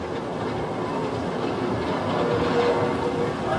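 Iron Rattler, a mine train roller coaster, rumbles along its track at Fiesta Texas with a steady rattling clatter of wheels that stays loud and close throughout, with no voices.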